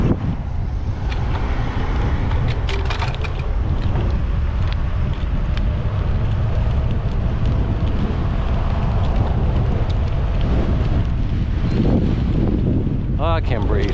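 Strong headwind roars steadily across the microphone while riding a Concord Commutr e-bike outdoors. The buffeting is loud and continuous throughout, with a brief rising tone near the end.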